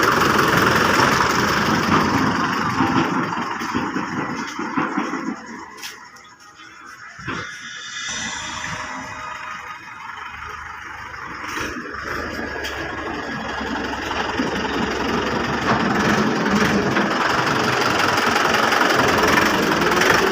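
A Mahindra 585 or 595 tractor engine idles close by with a steady, knocking diesel chug, briefly dipping quieter midway before settling back to a constant rumble; no one speaks.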